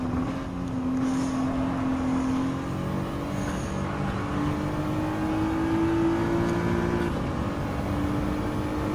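Racing car engines from Gran Turismo 7 drone steadily, including a 2006 Ferrari F430 being chased, with rising and falling pitch as gears shift. The tone holds loud and continuous throughout, no voices over it.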